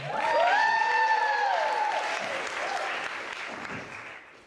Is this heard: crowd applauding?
yes